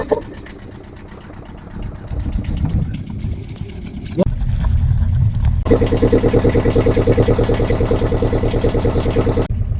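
A Nanni marine diesel engine runs after a head gasket repair, starting rough and uneven before settling into a loud, steady rhythmic idle with a fast regular chugging pulse close by.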